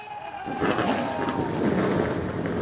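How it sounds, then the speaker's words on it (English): NASCAR Canada Series race cars firing up together on the front straightaway at Autodrome Chaudière, a loud rising roar of many engines that blends into a dense, continuous rumble. Crowd noise sits faintly underneath. "the command to fire things up here on the front straightaway. And all cars come to life"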